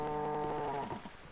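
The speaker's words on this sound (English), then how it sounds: "those cows sounds like they're giving birth" A Minecraft cow gives one long, low moo, loud and close, fading off at the end with no other sounds around it.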